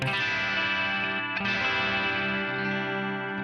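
A sustained electric guitar chord rings out with a swirling, effected tone, restruck once and left to sustain, with no talking.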